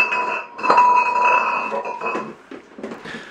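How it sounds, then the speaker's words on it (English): Glass clinks and rings against a hard floor in a series of bright, close impacts. A sharp crash comes early, then smaller tinkling hits and settling fragments follow. "there's something about this floor that breaks glass"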